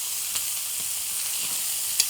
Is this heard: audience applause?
no